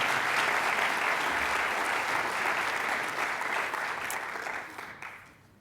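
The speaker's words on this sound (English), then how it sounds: "Can we give them one more little round of applause?" An audience at a school information evening applauds loudly and steadily for several seconds before the clapping fades out at the end.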